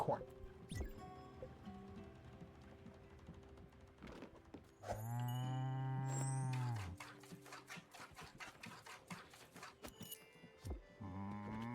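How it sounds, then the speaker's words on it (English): A cartoon cow moos in the video game Spiritfarer, one long, loud, tonal low call in the middle, set among light game sound effects and chimes, with a person talking quietly before and after. "Let's go check out this cow."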